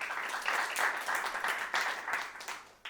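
A stand-up comedy crowd claps in a steady, fairly faint burst of applause lasting a few seconds, many hands at once with slight surges, no talking on top.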